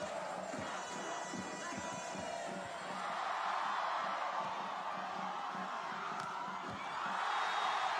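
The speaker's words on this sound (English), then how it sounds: "this is a knowledgeable crowd. They know exactly when to shout." Crowd at a beach volleyball gold medal final in Brasilia shouting and cheering in rising waves, a dense roar of many voices with rhythmic thumps underneath.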